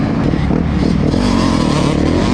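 A 1998 Honda CR motocross bike engine runs loud and close, holding a steady rough drone with slight revving throughout, no voices present.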